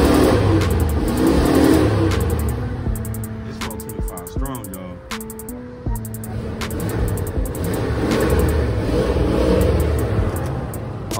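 A 1977 Cadillac Coupe DeVille with about 30,000 miles and in need of a tune-up, its V8 engine revving up and settling back in loud, close surges with a whirring rise in pitch.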